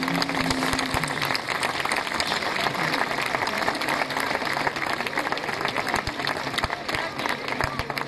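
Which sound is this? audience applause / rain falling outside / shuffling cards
audience applause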